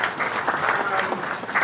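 An audience applauds at a community gathering honoring advisors of a Texas Mexican food heritage event, steady close clapping filling the short moment.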